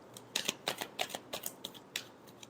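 Tarot cards being shuffled by hand give a quick run of soft, crisp flicks and slaps, close and quiet, in an irregular patter lasting a couple of seconds.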